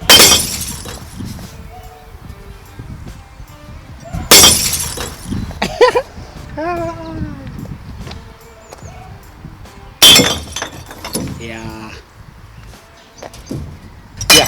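Glass bottles dumped into a recycling container in Germany: three loud crashing bursts of shattering glass, each followed by scattered clinks and rattles as bottles settle, with quieter pauses between the dumps.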